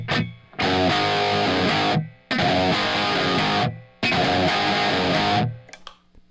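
Dry electric guitar with no reverb, three loud dense distorted bursts separated by brief gaps, ending with a short fading tail.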